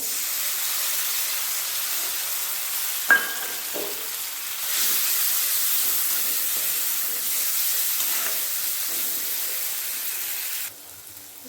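Ground spice paste fries with onions and a splash of water in a pan, a steady hissing sizzle with a sharp clink of utensil and stirring scrapes, then cut short near the end.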